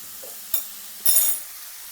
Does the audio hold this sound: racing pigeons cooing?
no